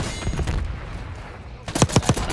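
Gunfire in the video game Black Ops 6: sharp bursts of shots, a few early then a rapid cluster near the end, loud over game noise with some talk.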